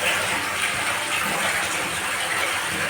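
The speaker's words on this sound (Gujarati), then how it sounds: "જોરદાર પાણી આવી ગયું હોય" Water rushes out of a side borewell in a strong, steady gush, loud and continuous with a broad hissing roar throughout.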